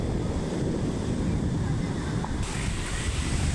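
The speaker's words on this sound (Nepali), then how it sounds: "झरना झरना झरना झरना झरना पानीको झरना" A waterfall pours with a steady, broadband rushing roar that stays even and unbroken throughout.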